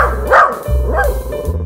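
A puppy in Roblox Brookhaven gives two close, loud barks with yippy rising-falling tones, spaced about half a second apart over a low background hum.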